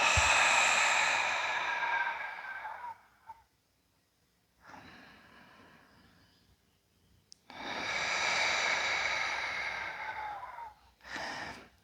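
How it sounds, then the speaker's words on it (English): Deep, slow breathing during a yoga flow: long audible sighing exhales, a pause, a softer inhale, then another full loud exhale and a short breath at the end, close and with no talking. "Full long breaths in and out."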